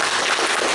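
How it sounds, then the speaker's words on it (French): Brief burst of dense clapping from an audience at a judo club demonstration, steady and fairly loud with no talk over it. "Vous pouvez l'applaudir."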